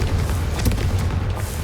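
A Confringo fire spell explodes in the video game Hogwarts Legacy, a dense low boom with rumbling that fills the whole short moment at steady loudness, with no voices.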